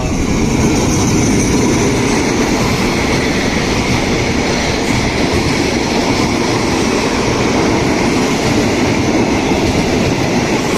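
Passenger train 4133 rolls into a siding at Bang Nam Priao station in Thailand, a loud, continuous rumble of wheels on rails with a steady clatter, close and with no speech.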